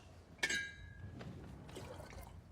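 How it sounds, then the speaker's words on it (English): Tea poured from a teacup back into a pot, beginning with a sharp ceramic clink and followed by a faint, brief trickle of liquid, quiet and close with no voices. "Now pour the tea back into the pot."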